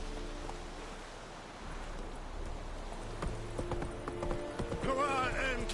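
Hooves of Geralt's horse Roach in The Witcher 3 clip-clop steadily and close by amid a soft rainy wash, with a brief voice rising near the end.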